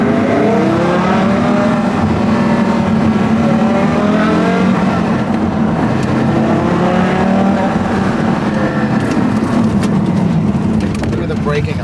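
Mirage GT sports car engine revving and pulling through the gears, a loud, continuous rasping drone that rises and falls in pitch, with a person talking over it throughout.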